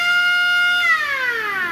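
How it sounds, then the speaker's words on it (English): A small battery-powered siren fitted to old exercise equipment gives a steady electronic tone that sweeps downward partway through. It sounds close and loud, with no other sound. "It's got some kind of a little siren that goes off."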